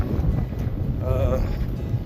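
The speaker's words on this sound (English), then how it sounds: "As you can hear, it's a windy day." Steady wind rushing and buffeting across the microphone on the Pacific Crest Trail, a constant low roar with a brief faint tonal sound in the middle.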